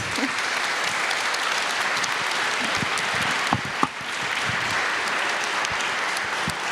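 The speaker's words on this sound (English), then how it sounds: "An applause for our speakers, please." A conference audience at an opening ceremony claps for the keynote speakers, a sustained, even round of applause filling the hall with a few sharper individual claps standing out near the middle.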